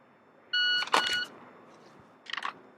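A loud electronic shot timer beep of about three-quarters of a second during a competition shooting draw drill, followed by a brief clatter and a short rattling burst.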